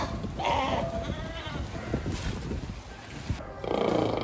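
Farm goats bleating nearby, two loud bleats at the start and end with scuffling and movement in between.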